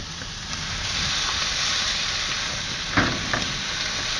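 Steaks sizzle on a grill with a loud, steady, close hiss and crackle throughout, with a couple of brief louder spits near the end and no talking.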